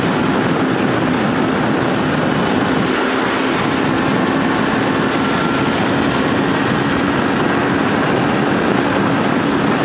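A Kawasaki Ninja 300 motorcycle engine while riding on a two-lane road: a loud, continuous engine drone blended with heavy wind rush, constant throughout with no talking.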